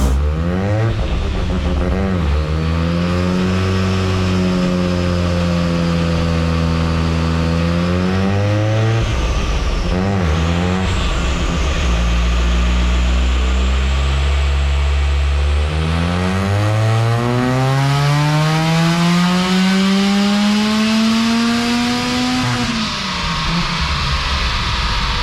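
A Mazda RX-7 rotary engine on a RACEONLY IGN1A ignition upgrade, loud and close, revs in repeated rising sweeps, dips, then climbs in one long smooth pull before dropping off, alone with no voices.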